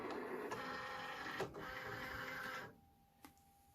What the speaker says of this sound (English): Once that's done, I bring the material over to the Cricut and load my mat